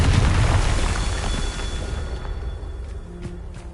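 A Confringo explosion spell goes off in Hogwarts Legacy, a heavy rumbling boom that is loudest at first and then fades into a softer rolling tail.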